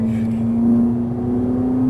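A Ferrari 458 Italia engine accelerating at the Fay-de-Bretagne track gives a steady, loud, close drone with a strong tonal hum that edges slightly upward in pitch across the whole stretch.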